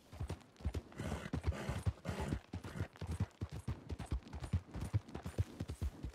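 Horse hooves clip-clopping in an uneven series of sharp thuds at close range, with a few voices faintly in the background.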